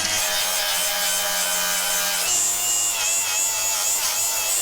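An electric grinder working over the tops of a metal car body during roof work, a loud continuous whining grind with a steady high-pitched tone that shifts slightly partway through, close to the microphone.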